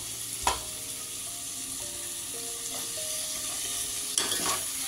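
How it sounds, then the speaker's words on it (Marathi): A spoon stirs chopped tomato and coriander into fried masala in a hot pan, steady sizzling throughout with a couple of sharper scraping knocks of the spoon against the pan. "हे मिश्रण चांगलं ढवळून घ्यायचं"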